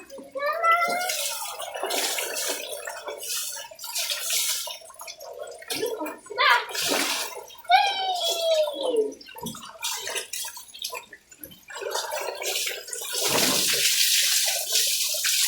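Water splashes and pours repeatedly during a child's bath while children chatter and squeal nearby, with a steady running-water wash near the end.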